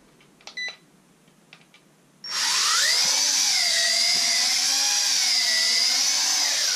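A WLToys Q919-A tank drone, a B-Unstoppable clone, sits near-silent with a few faint clicks, then its motors spin up abruptly into a loud, steady, high buzzing whine that holds as it lifts off and flies.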